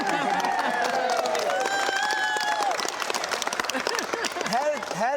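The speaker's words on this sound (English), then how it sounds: "Freddie Fiddler, everyone, a round of applause." Television studio audience applauding for former rugby league player Freddie Fiddler, a dense, steady wash of clapping and crowd noise, loud and continuous, with voices and cheers mixed in.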